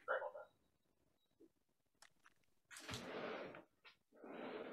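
An indoor dog gives a short loud bark at the start, followed by quieter scuffs, a thump and longer rustling bursts nearby, with no one talking.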